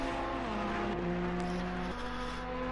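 Porsche and Ferrari race cars in a racing video game climb the twisty uphill section at Bathurst, engines droning loud and steady with shifting pitch as they change gear.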